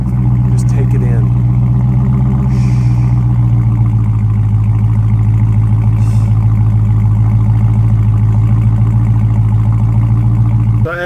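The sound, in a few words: car engine revving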